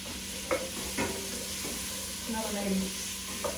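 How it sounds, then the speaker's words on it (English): Shallots sizzling in a pan as they are stirred for carrot lime soup, a steady close fry with a few scraping spoon strokes and light clinks, no talk. "We're just going to stir them around so they go, oh, the shallot gets a little bit translucent."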